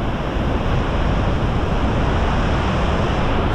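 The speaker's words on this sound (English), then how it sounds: "And here we have the powerful gushing water." Nevada Fall on the Mist Trail pours down in a powerful gush, heard as a loud, continuous, close roar of rushing water with no pauses.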